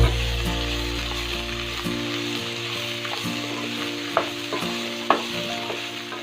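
Sliced onions and capsicum sautéing in a pan for Kerala-style chilli pork, a loud continuous sizzle with an electrical hum underneath and a couple of sharp clinks from a spoon or spatula near the end.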